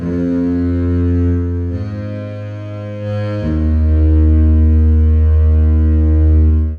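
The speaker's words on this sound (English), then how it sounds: "Then I have a bass that's also only playing one note from the chords." A loud, buzzy Logic stock synth bass holds one sustained chord note at a time, shifting pitch twice, with the final note dropping lower before cutting off.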